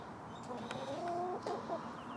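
A backyard chicken gives soft, close clucks and a short murmuring call, quiet and alone over faint outdoor background noise in a garden.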